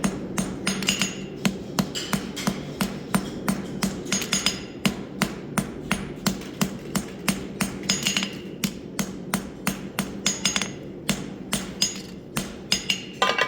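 A hammer strikes a bar horseshoe during a forge weld, with rapid, evenly spaced ringing blows on the hot metal over a constant forge roar.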